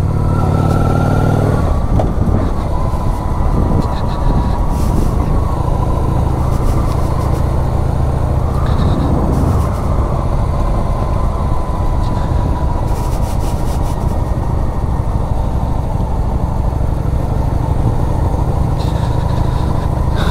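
An oldschool chopper motorcycle, a Kawasaki VN 800 or Honda VT 600, cruising a road near Bad Pyrmont, its engine a loud continuous rumble mixed with heavy wind roar throughout.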